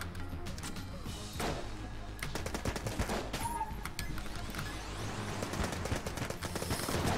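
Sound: gunfire from the video game Enter the Gungeon

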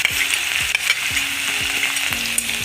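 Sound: crushed garlic frying with mustard seeds and urad dal

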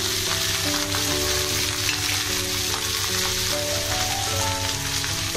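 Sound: spices and cumin powder sizzling in oil for fish shukto

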